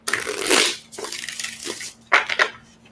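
Tarot cards are shuffled close up in three brisk riffling bursts, crisp and papery, with short pauses between.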